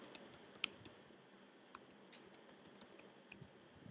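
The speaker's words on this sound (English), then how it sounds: "Right now I'm typing it as we speak." Faint, scattered keyboard clicks at an uneven pace over a low background hiss, with a couple of sharper taps standing out.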